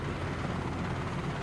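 Simulated helicopter in Microsoft Flight Simulator 2020, a continuous dense rotor and engine drone, steady and fairly loud with no speech.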